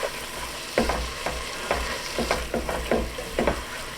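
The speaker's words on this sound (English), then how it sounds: "let's give that a nice stir" A spoon stirs soup seasoned with paprika, salt and pepper in a pot, with a steady low bubbling bed and a series of sharp scraping knocks against the pot, close and clear, no talk.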